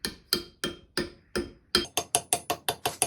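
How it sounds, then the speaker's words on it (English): A hand-made wooden wedge, cut from an offcut, is hammered into the eye of an old, heavily rusted axe head to lock it on the handle. About a dozen sharp, close knocks land in a steady rhythm, quickening toward the end, with no talk. "I'm going to hammer in a wedge I made from one of the offcuts of the wood."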